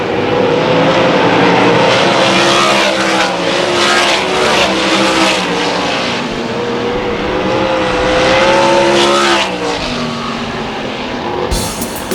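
Race cars roar past at the finish of a race at Susquehanna Speedway, a loud, continuous engine drone with rising and falling pitch as cars sweep by, ending in a brief crowd-like burst.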